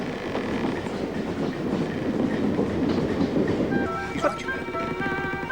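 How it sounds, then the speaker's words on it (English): A moving train heard from inside an animal carriage, with a continuous rumble and clickety-clack of the wheels on the rails, plus faint squeals near the end. "We're moving, Fistrum. It's a moving train. We're in the animal carriage."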